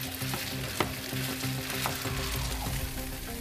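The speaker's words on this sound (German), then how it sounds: "Aber zuerst kommen die Urdinkelspätzle vom eigenen Mehl in die Pfanne." Spelt spätzle made from home-milled flour fry in a pan, giving a continuous close sizzle with occasional scraping stir clicks over the steady crackle.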